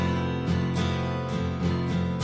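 Sustained strummed guitar chords with a few soft strum accents and a shift between chords, steady and close, no voices.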